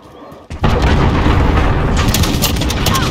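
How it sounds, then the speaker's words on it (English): A cruise missile strike hits in Call of Duty Modern Warfare on the Shoothouse map during a Cranked match, starting with a quiet lead-in and then a sudden loud booming blast that rumbles on densely to the end. "Allied cruise missile launched."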